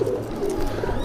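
A low, rolling coo from Madrasi pigeons at close range, steady and moderately loud over faint room noise.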